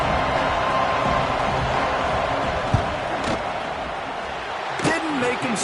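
A football stadium crowd roars steadily as a field goal try is lined up, a loud, dense wash of voices with a few sharp thuds and shouts.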